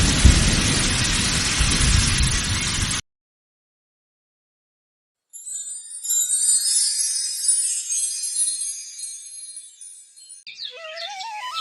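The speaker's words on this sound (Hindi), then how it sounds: "तेज हवा चली और देखते ही देखते मूसलाधार बारिश शुरू हो गई।" Heavy rain pours with strong wind and thunder in a cartoon village storm, a loud dense roar for about three seconds, then silence, followed by a fainter high wind-like hiss and whistling tones.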